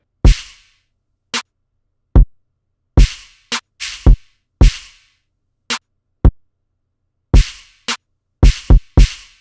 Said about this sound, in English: this is the stomp that is going to go alongside with the kick